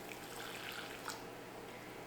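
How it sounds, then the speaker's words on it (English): Water is poured into psyllium husk in a bowl, giving a soft, steady splashing and trickling that runs quietly and evenly for the whole two seconds, with no one speaking. "So I'm going to add the water"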